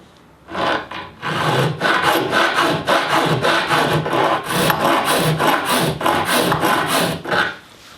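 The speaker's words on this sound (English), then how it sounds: "This is a 10mm rat's tail file, and being aluminium, this will probably take maybe 3 or 4 strokes on each side." A 10mm rat's tail file rasps back and forth through aluminium while a guitar pedal DC jack hole is enlarged, giving a steady run of close, scratchy strokes with brief pauses between them.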